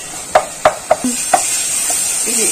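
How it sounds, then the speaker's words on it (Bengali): Mustard masala with a little turmeric stir-fried in a pan for bitter gourd pakora: four or five sharp spatula scrapes and clacks over a soft background sizzle, close and fairly quiet. "এবার আমি এটাকে ভালো করে কষাবো।"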